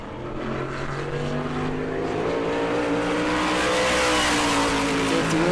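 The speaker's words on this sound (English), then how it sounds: "Joey Coulter a little bit sideways coming down to complete his run in 18390." A NASCAR Whelen Modified race car runs a qualifying lap at New Smyrna, its engine droning loudly and steadily as it passes, pitch rising and shifting through the run, alone without voices.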